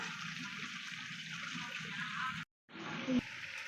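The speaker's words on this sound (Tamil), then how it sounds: "இப்போ நல்லெண்ணெய் ஊற்றிக்கலாம்" Sesame oil is poured into a pan while preparing puliyodharai mix, giving a soft steady liquid trickle that breaks off briefly and then resumes faintly, close and quiet.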